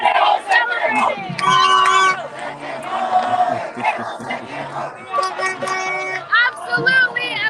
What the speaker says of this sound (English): there's an incredible crowd live here from Cali.